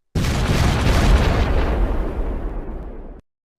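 A bamboo cannon fires a single loud, deep blast that booms and rumbles for about three seconds before cutting off, close and powerful, heard outdoors with no talking during the shot.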